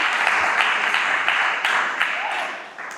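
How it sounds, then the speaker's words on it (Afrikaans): Applause and clapping for a person at a casual gathering, a dense, steady patter of many hands close by lasting the full stretch, tapering slightly near the end. "en dan Jan Hendrik, gee hom 'n lekker klap, kom ons gaan."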